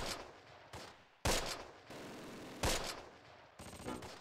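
Heavy gunfire from the World War II tactics game Close Combat: several loud bursts of shooting with abrupt starts and stops, with no talk.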